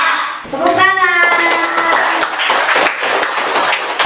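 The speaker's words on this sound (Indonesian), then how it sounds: "Tepuk tangan." Children clapping together in an elementary school classroom during a science lesson, a brief burst of hand claps mixed with young voices and chatter.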